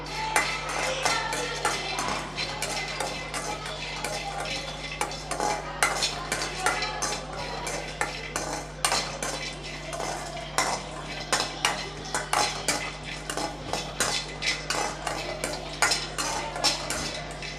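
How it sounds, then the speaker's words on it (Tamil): Garlic dry-roasts in a kadai without oil as it is made into kara podi. A metal spoon keeps up a rapid run of scraping clicks and knocks against the pan over a faint background, with no speech. "இப்போ ஃபஸ்ட்டு நம்ம பூண்டை வறுத்துக்கலாம்"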